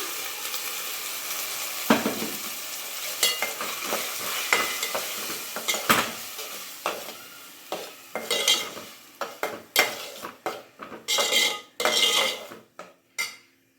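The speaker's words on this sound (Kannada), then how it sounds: "ಈಗ ನಾವು ರುಬ್ಬಿ ಎತ್ತಿಟ್ಕೊಂಡಿರುವಂಥ ಈರುಳ್ಳಿ ಟೊಮೆಟೊನ ಹಾಕೊಂಡ್ಬಿಡೋಣ" A utensil scrapes and clinks against a pan in repeated stirring strokes as ground onion-tomato paste cooks for paneer aloo masala over a soft sizzle, the scrapes growing sharper and more frequent toward the end.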